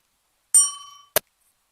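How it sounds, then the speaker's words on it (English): A single bright bell ding rings out with a long, clear tone that decays over about half a second, followed by a short metallic clink; close and alone, with no talk. "Tommy figured out the bell real quick."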